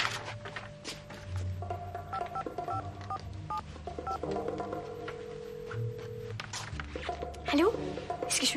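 Touch-tone keypad beeps dial a phone number, a series of short DTMF tones in irregular rhythm, heard over light background noise and movement.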